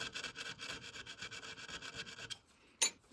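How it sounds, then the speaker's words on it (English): A small hand file rasps in quick, even back-and-forth strokes along the edge of a Forstner drill bit, close and fairly quiet, then stops, followed by a single sharp click. "I always liked using this little file to just sharpen the edge"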